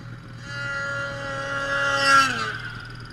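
An off-road vehicle doing a wheelie on a mountain trail, its engine revving up to a rising whine that peaks and then falls away, moderately loud and close with no talk.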